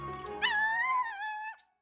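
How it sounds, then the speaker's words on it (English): A single drawn-out whining yelp from a dog in the fantasy role-playing game Metaphor ReFantazio, clear and close, rising and then falling before cutting off into silence. "Yeah, that's a dog, bro."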